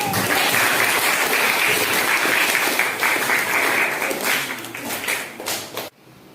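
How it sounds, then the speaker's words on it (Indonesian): A classroom group claps for group 1 in a dense, loud burst of applause that continues evenly, thins slightly, then cuts off abruptly near the end. "Baiklah, tepuk tangan untuk kelompok 1."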